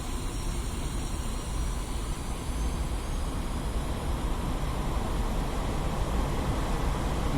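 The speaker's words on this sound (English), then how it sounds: "increase thrust of both engines to maximum" Aircraft engines at maximum thrust during takeoff in a flight simulation game, a steady, loud, broadband roar with a deep low rumble that holds constant throughout, with no talking.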